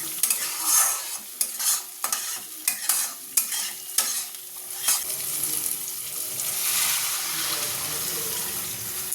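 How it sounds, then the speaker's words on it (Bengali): Fish curry masala with ground tomato frying in oil in a pan, stirred with a run of quick, clattering scrapes over a sizzle. The stirring then settles into a steady, bright hiss of frying. "টমেটো বাটা দিয়েছি দিয়ে কষছি হয়ে গেছে তেল ছেড়ে দিয়েছে এবার জল দিয়ে"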